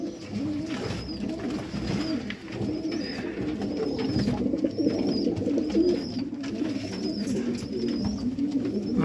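A black-mouthed Sialkoti pigeon coos in low, repeated throaty rolls, with faint higher chirps from other birds scattered over a steady outdoor background.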